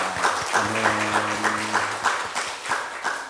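A burst of applause from a church congregation during a service, dense clapping that carries on for a few seconds over a sustained low musical tone.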